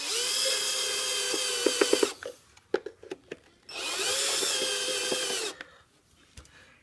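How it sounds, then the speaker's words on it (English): Cordless screw gun driving screws back into a hoverboard casing after a lithium battery swap: two loud sustained whirring bursts of a couple of seconds each, separated by sharp clicks and handling taps. "we're just putting the screws back in. As long as you got a screw gun, it's real easy"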